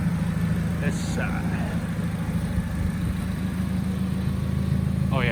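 A car engine idles steadily with an exhaust leak, giving a continuous low rumble close by that runs throughout, under brief talk.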